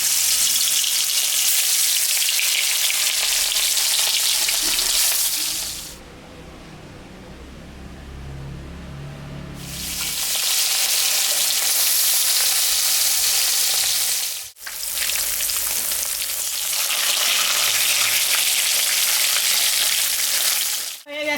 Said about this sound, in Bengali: আমি এখন সর্ষের তেল দেবো লবণ দিলাম হলুদও দিয়ে দিলাম ভাজবো